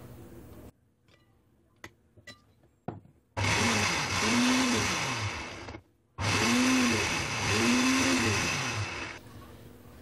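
An electric blender grinds fresh mint leaves with yogurt for raita in two loud, whirring bursts of several seconds each, after a few quiet clicks and knocks.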